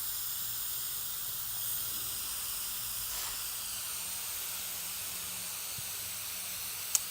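An aerosol spray can is held close and sprayed in light coats onto upholstery fabric on a van panel in a shop: a continuous, even hiss with a faint low hum beneath it.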